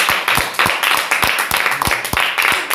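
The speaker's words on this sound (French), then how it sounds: "Applaudissons pour notre Seigneur." A church congregation claps for the Lord in a fast, steady rhythm of sharp claps, loud and close, with the crowd's noise blending underneath.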